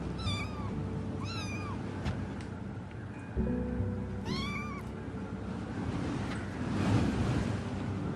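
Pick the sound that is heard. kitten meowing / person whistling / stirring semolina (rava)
kitten meowing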